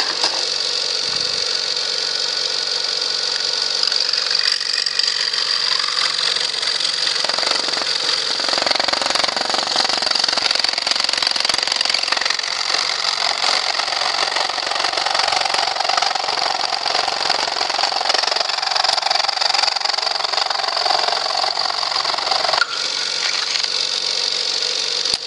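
Thick plastic of a Nerf blaster shell being cut through during modding, a loud, steady grinding whine that runs unbroken for about 25 seconds with no talking.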